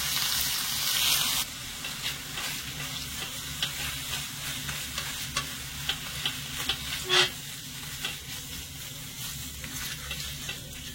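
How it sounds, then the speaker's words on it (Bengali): Spices and curry leaves fry and get stirred in a pan, a steady close sizzle broken by repeated scraping strokes and light clinks, loud at first then settling into an even hiss. "সবকিছু ভালো করে নেড়ে ছেড়ে মিশিয়ে মশলাগুলো একটু কষিয়ে নেব"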